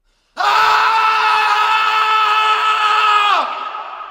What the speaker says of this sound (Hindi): डाकुओं की चीख जंगल में गूंजने लगी।